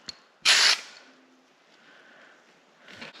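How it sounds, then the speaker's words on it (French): A spray paint can fires close up to make Halloween fake blood: one loud, sharp hissing burst of about a quarter second, a quiet pause, then a fainter short spray near the end. "On a juste à mettre des coups de bombe de près"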